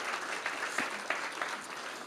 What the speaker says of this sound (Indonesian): Kita beri tepuk tangan bagi Tuhan saudara.